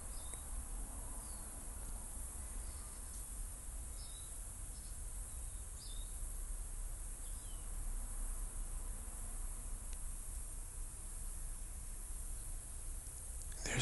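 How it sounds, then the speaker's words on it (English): Steady cicada buzzing forms a constant hiss throughout, with a few faint chirps scattered over the drone. "I love the cicadas that give that white noise."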